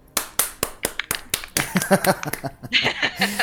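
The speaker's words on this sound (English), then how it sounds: "Can we clap?" A few people clap in sharp, separate claps, then the clapping turns quicker and mixes with laughter and chuckles.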